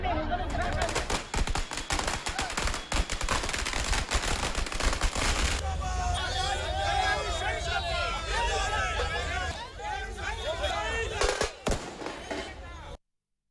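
Firecrackers set off at the Shamshabad bus stand during a JAC celebration burst in a dense, rapid crackling barrage for several seconds, then give way to crowd chatter and voices with scattered pops.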